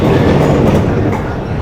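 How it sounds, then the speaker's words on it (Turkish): An old, nostalgic green tram on route 14 rides through Milan toward the Navigli, with a loud, continuous rumble of wheels on rails, light clatter and faint squealing heard from inside the car. "Çok güzel, yemyeşil bir tramvayda, eski nostaljik tramvayda Navigli'ye doğru gidiyoruz."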